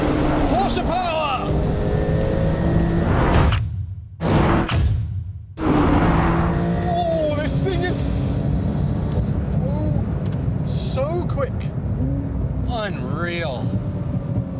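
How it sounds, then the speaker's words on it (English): A Porsche 911 Turbo S launches hard in a drag race, giving a loud, steady engine roar with rising tones and rushing wind noise, briefly muffled partway through, while a person exclaims and talks over it. "Oh, the 911 Turbo S is just in a different universe of speed."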